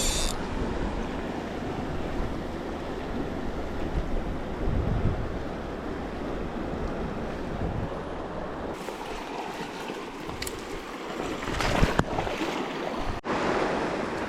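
The Lower Fork of the American River rushes past in a steady, broad roar of flowing water, with wind buffeting the microphone and a few sharp bumps near the end; no one speaks.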